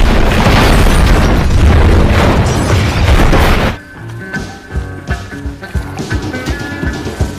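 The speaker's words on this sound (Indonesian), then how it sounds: "John pun berhasil lolos dan langsung meledakkan tempat itu." A loud film explosion from Rambo: Last Blood roars and rumbles for several seconds, then cuts to quieter debris clatter and scattered thuds.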